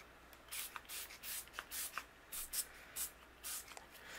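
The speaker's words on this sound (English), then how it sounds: "I'm going to spray my butterflies and my greeting" Short hissing spritzes of a shimmer spritz spray bottle misting paper butterflies and a greeting card repeat in quick bursts, about a dozen puffs close by with brief pauses between them.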